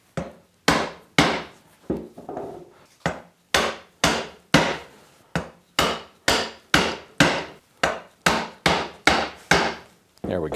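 Mallet striking a chisel while chopping a through mortise in wood, a steady series of about twenty sharp, loud knocks at an even rhythm, each ringing briefly, close and without talk.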